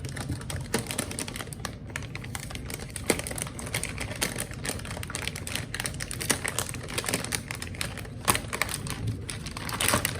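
Packaging on a Gigabyte RX 9060 XT 16GB graphics card box is opened by hand, with quiet close-up rustling, crinkling and tapping clicks scattered across the whole stretch.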